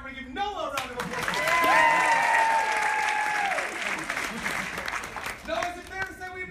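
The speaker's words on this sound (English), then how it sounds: "Noah, everybody give Noah a round of applause." A magic show audience claps for a volunteer on stage, a steady round of crowd applause that swells, holds for several seconds and fades as a voice speaks over it.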